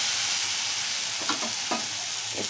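Onion and ginger fry in hot oil in a pan for a pabda fish curry, with a loud steady sizzle and a few scraping stirs close by.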